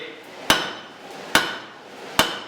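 A blacksmith forging metal strikes it with a hammer three times at an even, unhurried pace. Each blow is a sharp, ringing clang that fades quickly, with quiet gaps between strikes.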